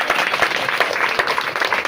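A church congregation claps together in a steady, rapid patter of many hands, moderately loud and continuous with no voices on top.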